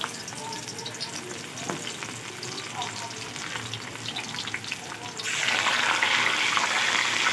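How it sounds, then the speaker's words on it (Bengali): Steady oily sizzling of chopped garlic frying in hot oil, growing louder and brighter partway through, with no one speaking. "তেলটা গরম হলে একে একে রসুন কুচি ছেড়ে দেবো"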